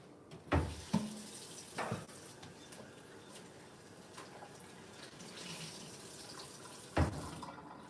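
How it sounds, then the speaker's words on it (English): Water from a kitchen tap runs steadily while hands are washed. Several louder splashes and clunks break a low, continuous flow, recorded close with no talking. "let me wash my hands"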